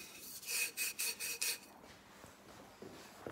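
A Scotch-Brite pad scrubbing a metal exhaust tube to prepare it for welding, five quick rasping back-and-forth strokes up close, then near-quiet with a few faint knocks.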